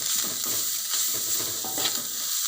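Grated coconut is stir-fried in a pan over a gas flame for a Batak Mandailing dish, a loud, close hiss of frying with repeated scraping strokes of the spatula.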